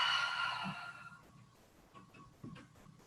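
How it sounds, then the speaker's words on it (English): One loud breathy exhale during a yoga breathing exercise, close and fading out, followed by faint quiet breathing. "Loud exhale."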